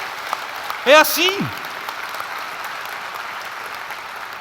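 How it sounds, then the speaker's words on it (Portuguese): A church congregation applauds, a steady wash of clapping hands running through the whole stretch, while a voice speaks briefly over it. "aplauda Ele"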